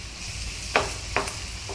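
A spoon stirs carrot burfi mixture with desiccated coconut as the milk reduces in a pan, three distinct scraping strokes over a soft background sizzle, close and fairly quiet.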